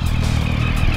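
Kawasaki GPz900R motorcycle engine cranking and trying to start, a steady close mechanical drone with low rumble and clatter, heard alone.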